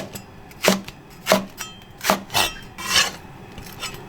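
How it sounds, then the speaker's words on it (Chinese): A knife cuts slices of ginger on a board, giving about six crisp, separate chops at an uneven pace, close and fairly loud against a quiet background. "姜直接切片就是。"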